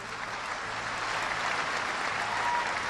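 Steady audience applause filling the room at a talk on history, law and religious tolerance, a dense even wash of many hands clapping throughout with no pauses.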